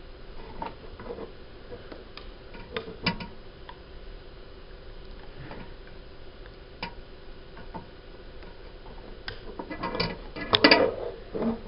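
A homemade bracelet-making machine being cranked, giving irregular mechanical ticks and ratcheting clicks, close and moderately loud, busier toward the end, with no speech.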